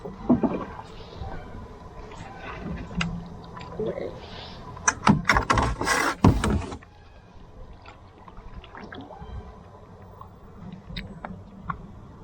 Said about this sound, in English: Now let's get some big paddling.